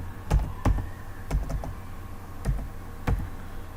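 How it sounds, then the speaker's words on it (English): Computer keyboard keys struck one at a time in an irregular rhythm while typing a Windows command, about six or seven close, crisp clicks over quiet background. "Here you need to type sfc space"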